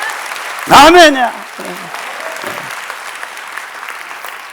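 Church congregation bursts into a short round of applause that swells and fades within about a second, mixed with a preacher's voice and a few shouted words.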